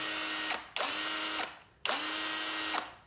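A small, powerful cordless power drill with no speed control, run on its fast setting, whines loudly and steadily in two long bursts, each ending in a brief spin-down before the next trigger pull.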